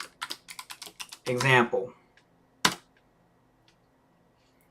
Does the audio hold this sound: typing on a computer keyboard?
yes